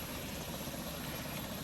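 A helicopter in the Roblox flight game Pilot Training Flight Simulator, flying on a Coast Guard rescue run, gives a steady, dense rotor and engine drone that holds at an even level throughout, with no talk over it.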